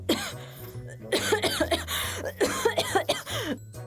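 A man with dust and insect allergies coughing hard in a dirty room: a quick series of harsh, close coughs and throat-clearing bursts in irregular clusters, fairly loud, with no speech.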